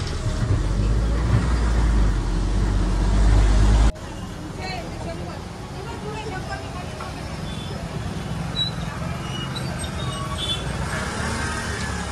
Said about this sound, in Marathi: रेवदंडा बस स्थानकावर गाडी 5 मिनिटं थांबली आणि पुन्हा प्रवासाला निघाली